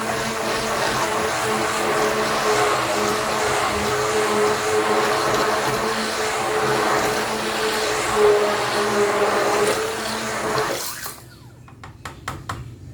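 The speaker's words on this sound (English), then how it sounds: "And you mix it again, still using the stick blender." A stick blender whirs continuously, a loud motorized buzz churning thick liquid soap mixture, then cuts off abruptly leaving a few faint clicks and knocks.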